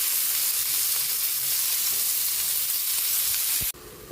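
Chicken liver and chayote sauté in a pan for chop suey, giving a loud, steady sizzle that runs continuously for nearly four seconds before cutting off to near quiet.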